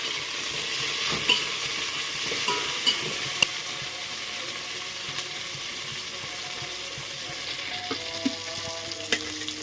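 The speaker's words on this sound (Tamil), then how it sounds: "சேர்த்து நல்லா வதக்கலாம்." Onions, green chillies, curry leaves, mint and coriander sautéing in oil, a steady close sizzle with occasional spoon scrapes and clinks against the pan, no talk.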